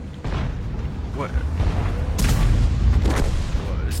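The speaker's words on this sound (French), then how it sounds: "Ouais, au niveau des sons, au niveau des bruits des canons." Tank cannons boom in World of Tanks after patch 9.15: heavy, broad blasts land around two and three seconds in over a dense low rumble of battle noise, with voices talking through the mix.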